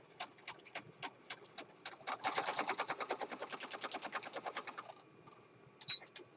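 A sewing machine runs a long straight stitch across a Christmas journal: a few separate needle taps first, then a fast, steady run of even mechanical beats that slows and stops, with no talking.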